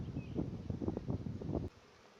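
A low, steady buzzing of many honeybees close by at the hive, holding for about a second and a half before cutting off abruptly.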